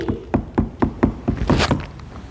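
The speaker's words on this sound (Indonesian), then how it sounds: "Lalu Bu Atri akan mengetuk wadah." Sharp knocks on a water-filled container in a classroom sound-propagation experiment, about seven evenly spaced hollow taps close to the listener, followed by a brief brighter scrape or splash.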